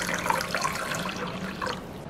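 A cup of water is poured over ingredients in a rice cooker, producing a continuous splashing, gurgling pour with bubbly liquid sounds at moderate, close range.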